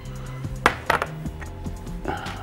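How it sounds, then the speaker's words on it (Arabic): Cauliflower pieces shifted into a bowl with clinks and knocks of utensils against dishes, including a couple of sharper clatters early on, over steady kitchen background. "خلصنا كده شويه القرنبيط دول، ننقلهم على البول"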